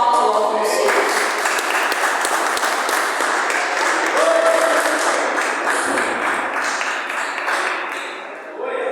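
A church congregation claps together, loud continuous applause filling the space, with voices and cheers mixed in and a slight fade near the end.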